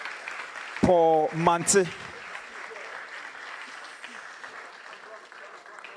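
An audience at a youth investment and financial literacy programme in Ghana claps steadily in the background while an announcer's voice cuts in briefly over the applause.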